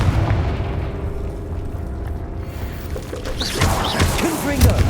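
Fiery Confringo blasting spell detonating in Hogwarts Legacy, a dense rumbling boom that rolls on for several seconds, with a voice talking over the later part.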